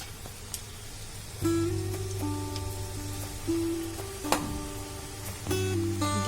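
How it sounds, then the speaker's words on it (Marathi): Onion bhaji fritters fry in hot oil over a lowered flame with a soft, steady crackling sizzle, while clear sustained tones run through the background. "आता तेल चांगलं तापलेलं आहे आणि आता गॅस थोडा कमी करा आणि आता आपण भाजी तळायला घेऊया"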